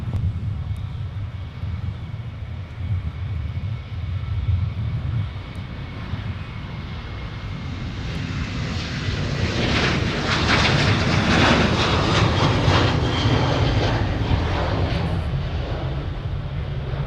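An airliner takes off from runway 30 left at Minneapolis–St. Paul airport, its jet engines a broad distant roar that swells and peaks midway, then slowly fades as it climbs away.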